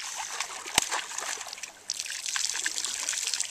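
Close, lively splashing and trickling water from a child splashing, with one sharp slap and a brief pause before the splashing resumes.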